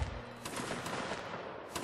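Massed musket volley in a multiplayer line-battle game, a faint, rumbling spread of overlapping shots at the start followed by scattered distant reports, quiet and far off.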